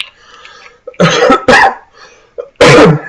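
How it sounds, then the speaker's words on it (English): Repeated coughing fits from one person close by, a short cough followed by two louder bursts, then a final hard cough, with quiet breathing in between and no talking. "Sorry for the annoying cough."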